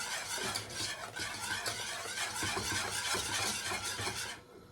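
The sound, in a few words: whisking a smooth sauce for macaroni cheese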